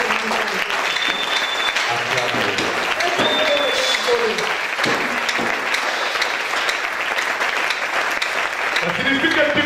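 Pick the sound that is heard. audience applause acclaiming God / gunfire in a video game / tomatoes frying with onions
audience applause acclaiming God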